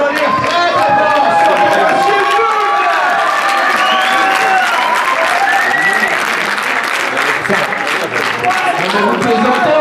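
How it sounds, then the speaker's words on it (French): Cinema audience at a film preview screening applauds loudly and continuously, a dense sustained wall of clapping mixed with crowd noise and scattered cheers. "Je vous demande d'applaudir très fort."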